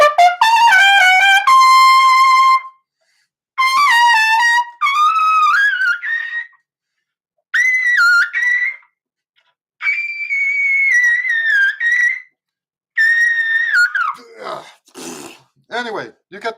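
Trumpet played through a shallow lead mouthpiece, a run of bright, centered sustained notes and short phrases with gaps between them, loud and close, ending in quick choppy bursts.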